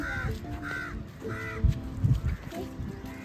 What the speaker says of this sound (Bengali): কাক বেশি আছে।